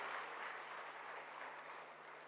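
An audience at a college inauguration ceremony claps steadily for a student, a dense, even wash of applause that stays faint and distant in a hall with a low electrical hum beneath.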